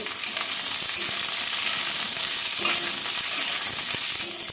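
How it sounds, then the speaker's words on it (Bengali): Pointed gourd, ivy gourd, yardlong beans and a little carrot frying in a pan for a vegetarian Bengali curry, a loud steady sizzle with occasional scrapes and knocks of stirring, close up and without talk. "পটল দেব কুর্জি দেব বরবটি অল্প গাজর এবার একটু ভেজে নেব"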